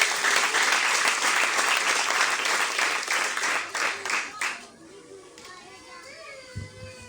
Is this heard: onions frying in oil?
no